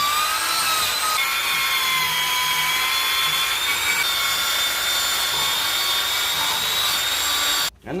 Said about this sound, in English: I take a wire wheel on a drill, just because it's quickest